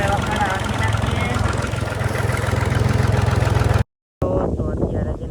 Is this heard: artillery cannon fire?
no